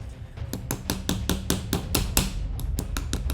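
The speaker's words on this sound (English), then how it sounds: "I'm gonna put the retaining pin in here" Rapid repeated metallic taps of a small hammer driving a retaining pin into an Atlas Gunworks grip on a Staccato XC 2011 pistol, about a dozen sharp close strikes in quick, slightly irregular rhythm.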